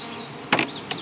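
Honey bees buzzing steadily at a beehive, close and continuous, with a couple of louder swells as bees pass near.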